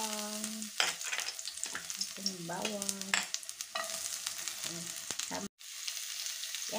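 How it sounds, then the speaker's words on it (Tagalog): Garlic and onion sauté in hot oil in a pan, a steady close sizzle broken by stirring scrapes and utensil clatter, with brief tonal squeaks and a moment of near silence. "igigisa na natin yung ating mga bawang, sibuyas at saka kamatis"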